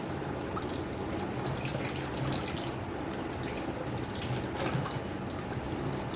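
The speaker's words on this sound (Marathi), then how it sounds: "बारीक नळ करून जर साफ केलं तर हे मासे खूप पटकन साफ होतात" Steady running tap water splashing continuously over small fish being washed, a constant close hiss of flowing water with no voices.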